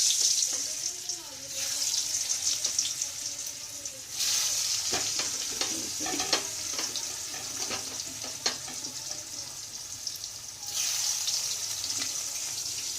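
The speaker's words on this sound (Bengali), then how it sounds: "প্রত্যেকটা আলু দিয়ে দিচ্ছি তেলের মধ্যে, এপিট ওপিট করে দেবো" Potatoes fry in hot oil in a home kitchen with a steady, close sizzle that swells louder as pieces are added and turned, with faint utensil clinks throughout.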